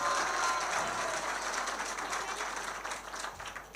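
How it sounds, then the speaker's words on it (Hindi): Audience applause at a poetry mushaira: a dense, steady wash of clapping from a large gathering, fairly distant and even, slowly easing off toward the end. "भाई शेर का जोरदार तालियों से पूरा मजमा पहले इस्तेकबाल करें।"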